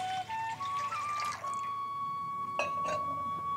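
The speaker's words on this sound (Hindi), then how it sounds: "हमें एक तपेला लेना है, उसमें हम पानी डालेंगे, 1 लीटर पानी डालेंगे।" Water pours into a pot, a tapela, to start the syrup for homemade gulab jamun. It is a steady stream that trickles and splashes close by, with a whistle-like tone that climbs in pitch as the vessel fills.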